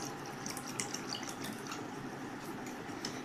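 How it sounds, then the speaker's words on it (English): Water poured from a vessel into a glass to fill it a third of the way, a quiet, continuous trickling splash with small drips throughout, close and soft, no talking. "Now, pour water to fill 1/3 of the glass."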